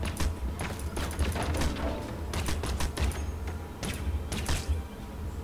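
Gunfire in the first-person shooter Crysis: bursts of sharp shots scattered through a steady, loud game soundscape, with a low hum underneath and no talk.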